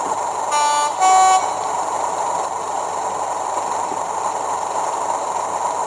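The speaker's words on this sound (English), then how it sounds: "let's try the horn, see how that sounds" A Bachmann Class 37 diesel locomotive model's sound-decoder horn gives two short, loud blasts early on, then steady background hum carries on alone.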